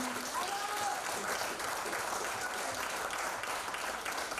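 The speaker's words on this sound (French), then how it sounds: "On les applaudit!" Audience at a small show gives warm, continuous applause for the performers, a dense patter of many hands at moderate loudness, steady from start to finish, with a few faint voices and whoops underneath.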